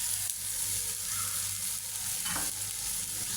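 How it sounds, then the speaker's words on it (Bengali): Noodles with their spice mix being stirred in a hot frying pan, a steady sizzle and frying hiss with soft scraping of the stirring, continuous and fairly close, no voices. "এখন দিয়ে দিব নুডলসগুলো। দিয়ে দিব নুডলসের মশলা।"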